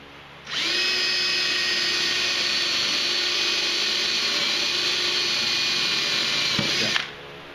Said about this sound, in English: Then drill out your holes. 3/16 drill bit.